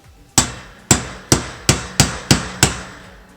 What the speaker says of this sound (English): I like having one of these smaller hammers around